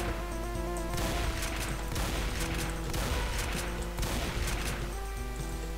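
Repeated shotgun blasts in Doom, heavy booms in a steady rhythm about once a second, layered over constant game music and a thick low rumble.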